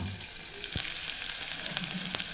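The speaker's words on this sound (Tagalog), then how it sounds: "mag-saute tayo ng bawang" Garlic sautés for a mung bean dish, giving a steady, close hiss of frying oil broken by a couple of soft knocks of a utensil.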